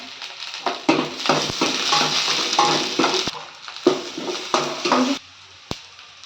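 Urad dal and curry leaves fry in hot oil in a pan for a cabbage capsicum egg stir-fry, with bursts of sizzling and crackling, a spoon stirring and clinking against the pan, close and fairly loud.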